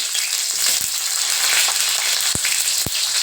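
Ginger and two medium onions sizzling in about 100 ml of hot oil in a kadai, a steady bright frying hiss throughout with a couple of sharp pops near the end, no talking.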